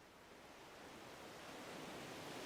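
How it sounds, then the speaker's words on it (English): Wind rushes through a Swedish forest as a soft, even broadband hiss that swells a little over two and a half seconds, faint and distant with no voices. "how the wind plays with the trees"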